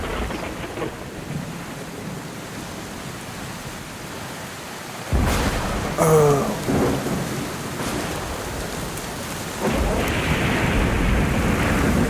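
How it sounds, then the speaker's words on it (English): Heavy rain hisses steadily through a video game thunderstorm on Bootstrap Island, with a loud crack of thunder about midway and rolling rumbles afterward; one brief exclamation is heard. "just listen to that thunder and lightning"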